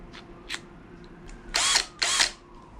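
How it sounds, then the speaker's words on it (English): A stepper drill bit bores holes in a guitar pedal enclosure: two loud grinding bursts of about a quarter second each, preceded by short whirring taps of the drill starting, close up with no talking. "So that's our stepper drill in."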